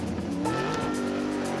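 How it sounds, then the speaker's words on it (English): PJ Masks cat car toy speeding through a night chase, engine rushing steadily with squealing tires, loud and close for a brief burst with no talking. "The cat car surges forward."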